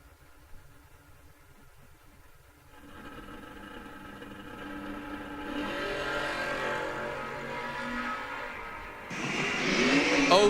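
A 1992 Camaro drag race car sits on the line at a drag strip, then its engine builds from a low rumble into a loud roar as it launches, revving harder toward the end.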